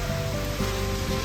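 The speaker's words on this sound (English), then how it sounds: "it's pouring down with rain here" Heavy rain pours down steadily outdoors in an Italian town, a dense, continuous hiss and patter with no break, loud and close.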